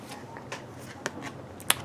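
Angel cards are shuffled for a reading: soft papery riffling with a few crisp flicks and one sharp snap near the end, quiet and close.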